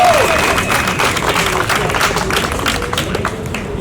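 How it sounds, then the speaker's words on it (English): Rally audience clapping steadily for an incoming speaker at a social justice rally, a dense sustained round of applause that tapers slightly toward the end. "Let's give a round of applause"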